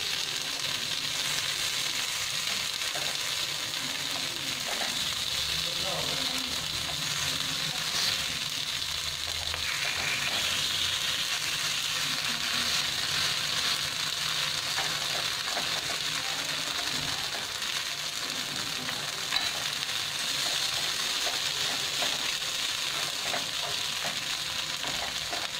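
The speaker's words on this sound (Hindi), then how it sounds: "अब इसको भी हम 5 मिनट तक ऐसे ही पकने देंगे" Vrat tikki cooking in a pan with very little oil, a steady soft frying sizzle running continuously throughout, with faint occasional scraping and clicks and no talking.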